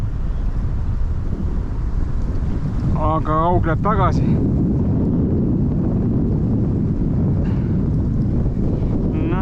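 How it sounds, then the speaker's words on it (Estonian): Strong wind roars into the microphone at a bog lake during hand-line herring-bait fishing, a constant loud low buffeting throughout, with a brief voice speaking midway. "tuul on täna nii tugev"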